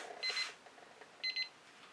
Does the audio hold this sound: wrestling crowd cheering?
no